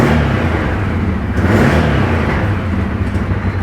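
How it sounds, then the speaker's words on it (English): A rebuilt Bennche Spire 800 UTV engine revs up loudly and smoothly at close range, a dense steady roar that swells and holds for a few seconds with no talking. "Revs up really nice."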